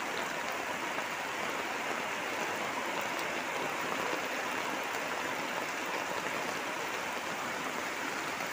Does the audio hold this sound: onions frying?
no